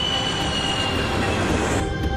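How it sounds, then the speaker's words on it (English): Airliner jet engines roar at high power during the takeoff roll, a loud, steady, broadband rumble with a faint whine, continuous and unbroken with no voices. "The engines are pushed to high power."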